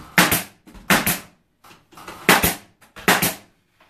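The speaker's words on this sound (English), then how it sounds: "Nancy, this is a Hitachi nail gun." A Hitachi nail gun fires into pallet wood planks fixed to a wall, giving four sharp, loud nailing bursts with short pauses between them, close by and with no talking.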